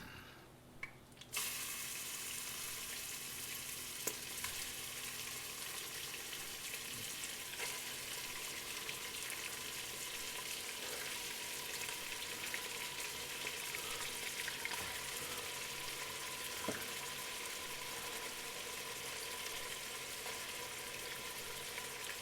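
Sirloin tips brown in a pressure cooker with a constant soft sizzle and hiss, steady and fairly quiet, with no one speaking.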